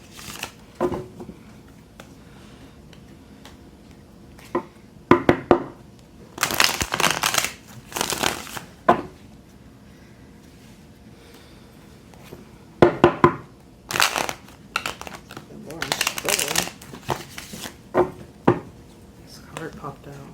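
A tarot deck is shuffled in several brisk bursts of riffling and card slaps, separated by quieter pauses where a person talks softly.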